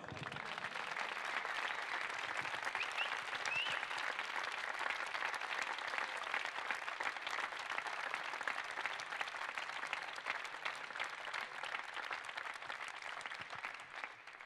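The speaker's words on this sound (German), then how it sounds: "bitte ich noch einmal um einen kräftigen Applaus" A crowd gives sustained, even applause at a 2019/20 player farewell ceremony, steady clapping that continues without a break for about fourteen seconds at a fairly low, distant level.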